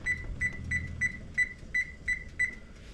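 A kitchen timer set while chicken kebabs bake in the oven beeps in a steady, evenly spaced series of about eight short, bright electronic tones, clear and close with no talking.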